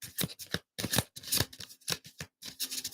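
Close, rapid bursts of oversized tarot cards being shuffled, riffling and slapping in uneven clusters with brief pauses between, no talking.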